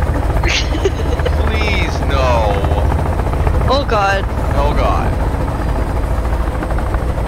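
Helicopter in the survival game Sons of the Forest droning loudly and steadily throughout as it goes down in a crash, with panicked voices talking over the rotor noise.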